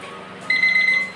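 A short, high-pitched electronic beeping tone sounds for about half a second, a kitchen timer alarm ringing over a quiet room background.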